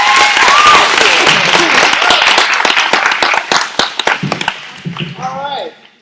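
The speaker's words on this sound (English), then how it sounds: "Everybody clap it up for our panel" An audience at an evening wellness workshop claps for a panel, a dense burst of applause that thins into scattered claps and fades, with voices rising near the end.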